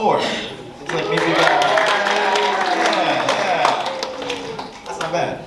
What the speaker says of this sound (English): Let's measure our applause.